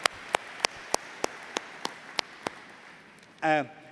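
A few slow, single claps from an audience honouring Naveen, a youth chairman who came from India for a spiritual gathering, spaced evenly and sharp against quiet, then a short burst of voice at the end.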